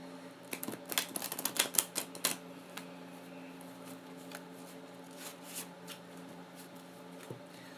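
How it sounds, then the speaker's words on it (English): Tarot cards shuffled by hand in a quick burst of crisp riffling clicks that taper into a few scattered taps against a faint steady hum. "Just some advice while I'm shuffling the cards."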